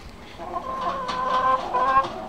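Chickens cluck steadily, including three young free-range blue-egg hens settling in with older birds of the same age; overlapping clucks and short calls are heard near and moderately loud across the whole stretch.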